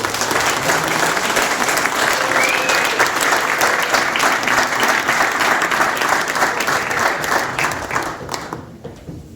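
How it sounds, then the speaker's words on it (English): Sustained applause from a crowd of guests at a retirement party honoring a retiree, dense and steady for several seconds before cutting off abruptly near the end. "Everybody, a round of applause for Lamar."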